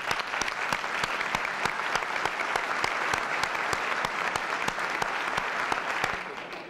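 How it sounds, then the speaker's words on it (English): A standing luncheon audience at a 1991 NRCC Presidential Forum claps in sustained, even applause, dense crisp handclaps filling the room continuously and loudly from start to finish. "ask them to stand and give them a round of applause"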